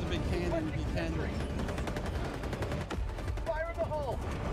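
Heavy cannon fire from the big cannon in Helldivers 2, a chaotic battle with repeated loud blasts and crackling gunfire layered over each other, while voices shout under the din.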